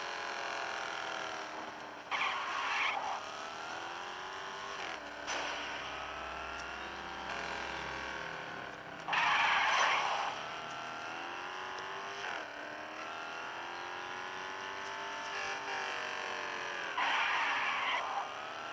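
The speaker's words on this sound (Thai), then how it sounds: "คาเลนมันขับรถเร็วจังวะ" Car engine in the game Gangstar Vegas droning steadily at speed, with rising and falling revs, occasional louder bursts like skids, and a continuous hum throughout, no talking.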